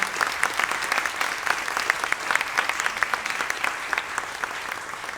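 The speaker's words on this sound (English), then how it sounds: "So if we could have a round of applause for Amy and the Riveter." Steady applause from an audience, many hands clapping densely and continuously at an even loudness with no voices over it.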